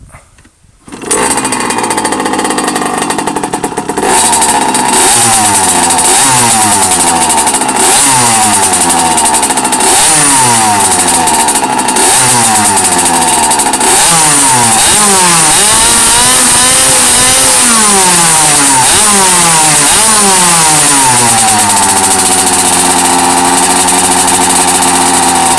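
A small two-stroke Derbi moped engine with a full Barikit kit sputters to life, then revs up and down repeatedly, loud and close, before settling into a buzzing high idle.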